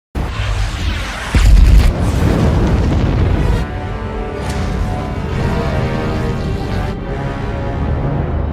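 A heavy cinematic explosion as an alien warship bombards a superhero compound, a deep booming blast that swells loud around the second mark, then rolls on as a long, dense rumble of debris and fire.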